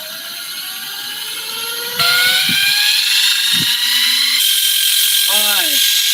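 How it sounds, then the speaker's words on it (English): A spinning shaft rig whirring at several thousand RPM, a steady high-pitched whine with a rising pitch that jumps louder midway, with brief low knocks and a short voice-like warble near the end. "I'm going to spin this up to a few thousand RPM"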